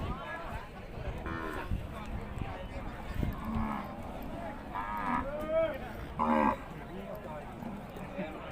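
Cattle moo repeatedly at a livestock market amid the noise of the crowd, with people talking throughout.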